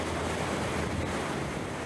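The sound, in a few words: sea waves against the frigate Hermione's hull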